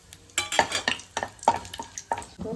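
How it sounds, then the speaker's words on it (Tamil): Bay leaf, cinnamon, clove and cardamom are stirred in hot oil in a pan, with a few rhythmic, close scraping strokes over a soft, steady sizzle. "பிரிஞ்சி இலை, பட்டை, லவங்கம், ஒரு பிஞ்சு ஏலக்காய் போட்டு கலக்கலாம்."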